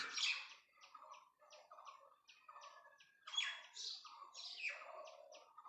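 An Asian koel calls repeatedly in short, bright, rising notes, close by, with overlapping chirps from other birds; no one speaks.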